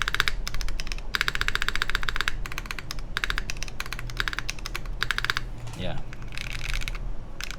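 Someone types briskly on a custom Anorexus Design Void mechanical keyboard with a polycarbonate case. Close, crisp keystrokes come in quick bursts separated by short pauses, and a voice speaks briefly.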